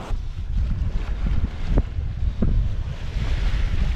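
Wind buffets the microphone at sea during an Atlantic crossing while waves wash and surge steadily, with a couple of brief sharp knocks in between.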